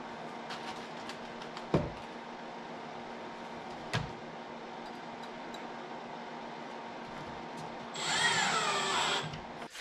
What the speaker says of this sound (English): what I'm going to do now is screw in the back